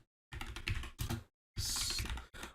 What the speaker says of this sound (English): I really don't like typing in how long to beat Sleeping Dogs